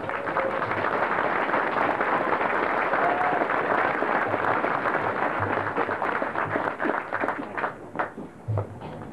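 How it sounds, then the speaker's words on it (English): Sustained applause from an audience at a military graduation ceremony at Fort Benning, dense and steady before thinning into scattered claps near the end. "Please join me in a round of applause for Command Sergeant Major Bill Morgan."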